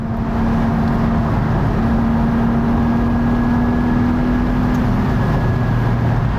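A 2020 Porsche 718 Boxster Spyder drives along with a steady engine drone and a faint sustained whine, heard from inside the car as a continuous, fairly loud hum without speech.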